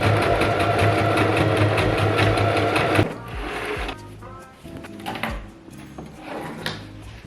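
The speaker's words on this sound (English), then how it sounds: "Same with this one, pull it out and sew along that edge as well." A sewing machine runs steadily and loudly while stitching along the edge of a quilted makeup bag, then stops, followed by softer handling and fabric sounds.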